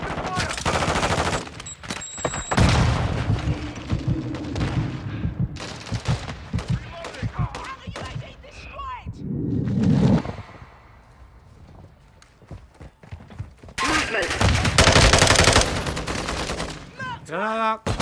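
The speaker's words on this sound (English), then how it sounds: "Taking effective fire!" Heavy automatic and rifle gunfire from the military shooter game Call of Duty: Modern Warfare II, sustained bursts with brief lulls, loud and close, mixed with shouted radio-style voices.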